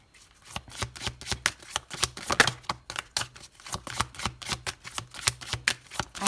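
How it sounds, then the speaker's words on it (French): A deck of oracle cards is shuffled by hand in a steady run of crisp, rapid riffling slaps, close and clear with no talking. "On va terminer avec une dernière carte de l'oracle Les saisons de la sorcière"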